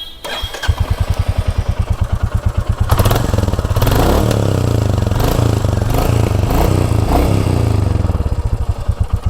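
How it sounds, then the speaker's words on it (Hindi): A Royal Enfield Classic 350, 2022 model with stock exhaust, starts and settles into a loud, steady thumping idle, with a few blips of revving; close and unaccompanied by speech. "चलो तो पहले सुनाते हैं जो स्टॉक एग्जॉस्ट है 2022 मॉडल"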